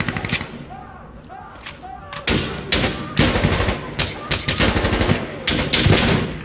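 Gunfire in the tactical shooter Insurgency Sandstorm: after a quieter start, loud sharp shots and rapid bursts crack out repeatedly through the second half, with a voice talking faintly beneath.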